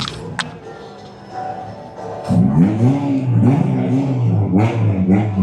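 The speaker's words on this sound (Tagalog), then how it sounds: "Drag racing. Car racing." A car engine revving at a drag-racing car show, a low rumble rising through several climbing revs after a quieter start, fairly close with crowd bustle behind.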